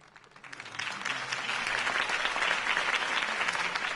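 A crowd breaks into applause after a mayoral campaign speech, starting with scattered claps that swell into sustained, dense clapping from a large audience.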